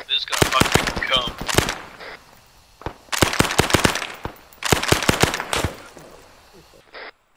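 Automatic weapons fire in Arma 3 during a Vietnam mission: three loud, close bursts of rapid shots, each lasting about a second and a half, with short pauses between them and a single crack at the end.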